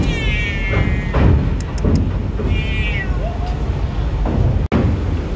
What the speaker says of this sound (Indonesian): Kucing ngeong-ngeong nih di bawah kaki,